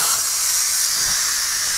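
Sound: steam hissing from pressure cooker pressure release

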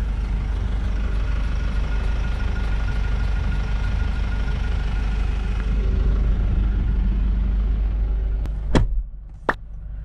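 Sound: Mitsubishi Delica D:5 diesel engine idling after start

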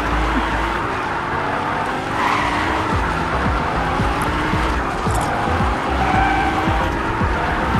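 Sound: car driving in video game Fortnite

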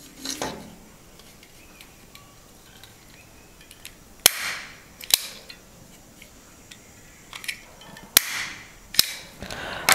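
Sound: stapler stapling rubber band to homemade mask

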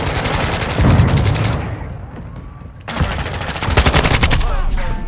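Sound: gunfire in video game Modern Warfare 2

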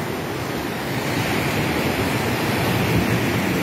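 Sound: rushing water of an overflowing river

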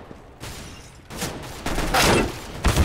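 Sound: gunfire in Counter-Strike: Global Offensive video game

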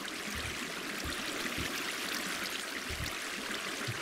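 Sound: water flowing in the video game Minecraft

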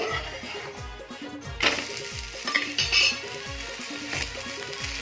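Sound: gavna pancake flipped and sizzling in pan

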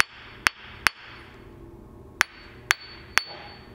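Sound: hammer tapping a cracked grinding wheel, dull sound

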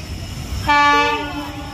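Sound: electric passenger train hauled by WAG9 locomotive

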